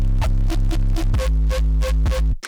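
Wide noise fuzz from an Ableton Erosion effect sits on a loud, pulsing distorted bass tone, giving a gritty buzzing texture that throbs rhythmically, then cuts off abruptly.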